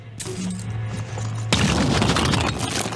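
An explosive attack in the turn-based strategy game Phoenix Point: a low hum gives way to a sudden loud, dense rumbling blast with crackling debris that lasts to the end, with no voices.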